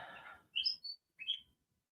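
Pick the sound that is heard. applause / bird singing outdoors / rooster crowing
bird singing outdoors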